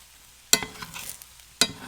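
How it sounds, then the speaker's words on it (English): A spatula stirs pork belly fried rice with pineapple, onions, peas and carrots in a hot pan: two sharp scraping strokes, with soft sizzling between them, close and fairly quiet. "Give this a mix."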